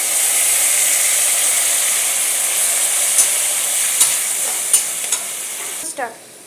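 Green chili and mustard paste being stirred in a hot pan for kochur lati chorchori, a steady close sizzle with a few sharp utensil clicks toward the end.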